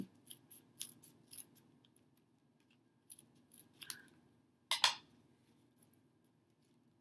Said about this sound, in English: So you can see there's these little lines and you just cut.